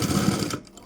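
A sewing machine stitches a blouse in a quick, close burst of rapid mechanical clatter that stops abruptly after under a second.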